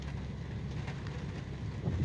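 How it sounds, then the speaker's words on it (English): Hard rain pours down under a deep overcast sky, a dense, steady hiss of falling water with a low rumble underneath, fairly faint and unbroken, with no voices. "raining hard"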